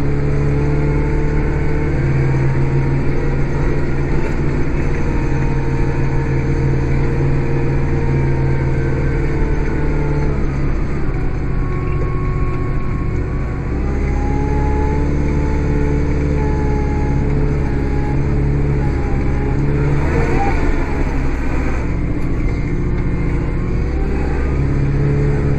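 A Kubota 5740 tractor runs with a steady, loud engine drone close by, holding a constant idle-like hum with slight shifts in pitch and load, and no voices.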